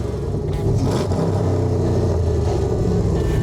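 A bodiless track car with a 590hp LS engine runs loud and close, its engine note a dense, continuous rumble that swells as it revs.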